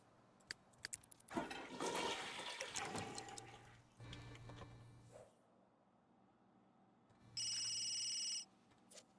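A phone rings in The Sims 3, a steady bright electronic trill lasting just over a second near the end, after a rush of water-like flushing and clattering household game sounds.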